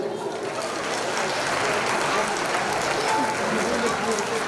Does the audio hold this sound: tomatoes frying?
no